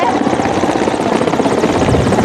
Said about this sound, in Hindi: आप देख सकते हैं हेलीकॉप्टर जो है काफ़ी बेहद करीब जो है हमारे सामने मौजूद है।